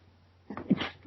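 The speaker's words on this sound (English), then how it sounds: "Yeah, I just can't stop sneezing tonight." A single sneeze from a man indoors on a podcast recording, a short sharp burst with a breathy lead-in, heard alone at moderate level.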